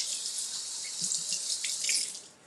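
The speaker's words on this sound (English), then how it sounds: "Let me wash this one out." Water runs steadily from a kitchen faucet while a yellow pepper is rinsed under it, a continuous close hiss with small splashing shifts as the pepper moves in the stream.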